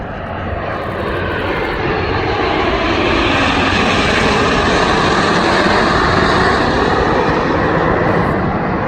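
Snowbirds aerobatic jets passing over an airshow, a loud roaring engine rush that swells steadily and stays strong and broad throughout, no voices.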